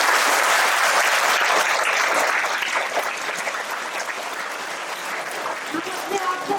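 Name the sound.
audience applause at a school inauguration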